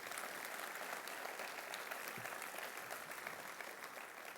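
An audience claps together in a dense, even burst of applause that holds steady throughout, heard from within the crowd at moderate volume.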